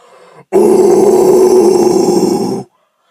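A deep, guttural vocal scream, a rough low growl pushed out on one breath and held steady for about two seconds before cutting off.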